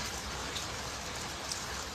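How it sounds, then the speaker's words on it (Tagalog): Rain falls steadily outside, a dense, even hiss without pause, fairly loud and close. "Umuulan pala dito sa amin."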